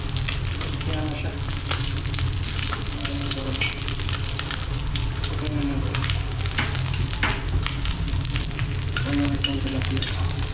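Tilapia fries in hot oil, a loud, dense, continuous sizzle and crackle held close for about ten seconds with no voices over it.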